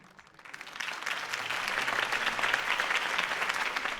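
Crowd applause after a campaign speech in a Batman video game swells into steady, dense clapping from a large audience, heard at a moderate distance without voices on top.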